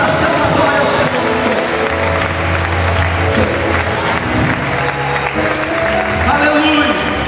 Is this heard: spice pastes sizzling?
no